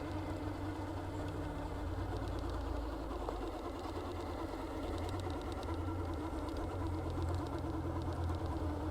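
An RC rock crawler on 1.9-inch tires with Hobbywing electronics whines steadily as its electric motor drives it over rocks, with a continuous close motor hum and faint clicking.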